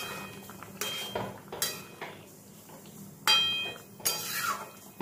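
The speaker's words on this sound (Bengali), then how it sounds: "এবার ভাজা মশলাটা সব কিছু ঝোলের মধ্যে মিশিয়ে দেব।" A utensil scrapes and clinks against a pan as fried spices are stirred into a rohu fish curry with taro and potato: irregular sharp metallic strokes and scrapes, close and fairly loud, with quiet pauses between.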